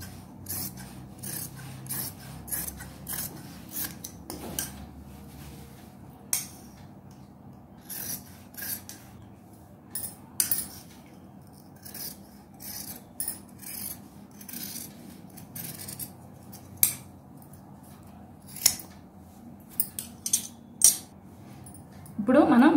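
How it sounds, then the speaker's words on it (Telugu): Scissors cut fabric for a kids' coat-style frock, giving repeated short crisp snips and rasping slides at an uneven pace, close by, with a voice talking quietly in between. "ఇప్పుడు ఇది కట్ చేసేసుకుందామండి."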